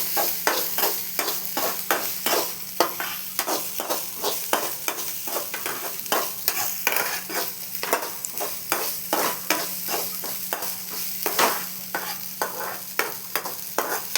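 Ginger garlic paste sautéed in a pan sizzles steadily, and a spatula scrapes and stirs in a quick, regular rhythm throughout.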